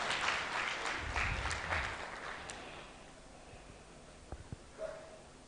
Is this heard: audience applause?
yes